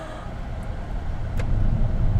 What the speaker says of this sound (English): Shift it into drive, and then let's hit the road,